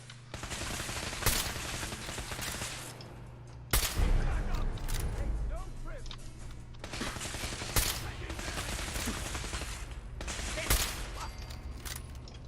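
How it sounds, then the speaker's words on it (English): Sustained automatic weapon fire in Fallout 4 during an attack on the Mass Fusion building: dense, continuous rattling bursts with sharp louder shots, loud and close throughout, with no talk. "tried it out with the automatic weapons"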